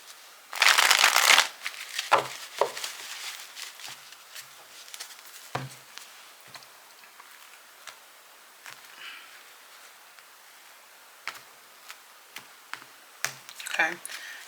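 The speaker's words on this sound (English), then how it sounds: "If I can shuffle right." Tarot cards being shuffled by hand: a loud riffling burst at the start, then scattered soft card taps and flicks, with a few brief spoken bits in between.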